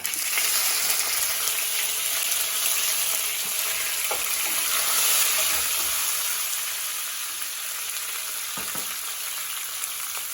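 Dried red chillies crackle and fry in hot oil after mustard seeds for a Kerala-style fish pickle, giving a steady loud sizzle with occasional pops and stirring, and no voices.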